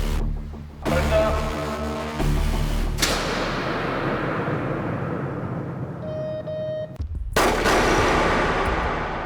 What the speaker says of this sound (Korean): 네, 사격 진행해 보겠습니다.